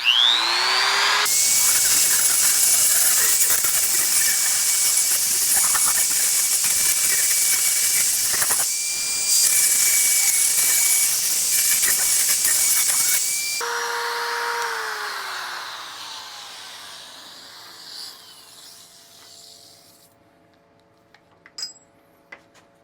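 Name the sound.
small rotary tool working on an axe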